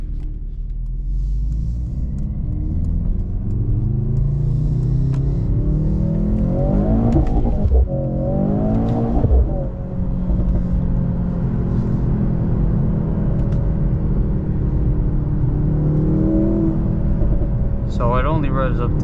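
A 2025 Mercedes-AMG C63 S sports car engine rumbles and revs steadily through the cabin, rising in pitch and pulling through gear changes, with people talking over the drone.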